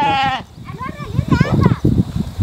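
A sheep from a large flock gives a short, wavering bleat at the start. A voice then continues close by.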